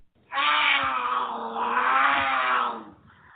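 A cougar growl used as a sound effect in a radio advert: one loud, sustained, rasping growl lasting about two and a half seconds, heard alone with no talking.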